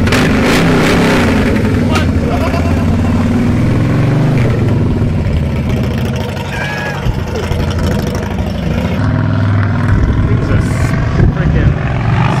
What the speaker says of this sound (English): Rev it really loud.